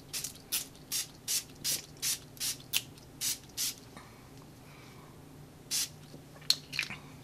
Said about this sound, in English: just mist my whole entire face.